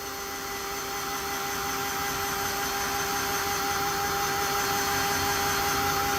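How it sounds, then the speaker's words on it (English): A heat tool blows steadily on an inked crafting journal tag, giving a loud, continuous whirring hiss with a fixed tonal whine that runs unbroken from start to finish. "And then I'll hit it with my heat tool again."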